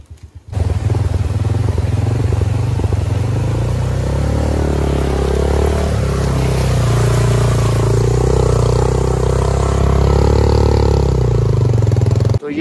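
A motorcycle engine misfiring on a rough off-road track in Deosai National Park, loud and close, idling and revving unevenly with sputtering irregular firing throughout.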